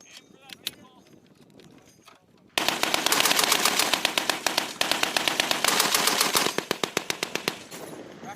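A machine gun fires at a US Marine Corps regiment's annual training range, with quieter scattered shots at first, then long, loud, rapid bursts of close rhythmic gunfire that continue to the end.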